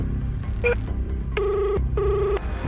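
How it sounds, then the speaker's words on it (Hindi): A telephone ring tone repeats in short electronic bursts, a brief chirp followed by two longer trills, over a low background hum. "नमन ने जेब से तुरंत फोन निकाला और ध्रुव को फोन मिलाया"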